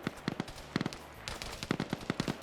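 Rapid bursts of automatic gunfire from a competitive multiplayer shooter match, several clustered volleys overlapping from multiple weapons, fairly close and crisp, with no voices over them.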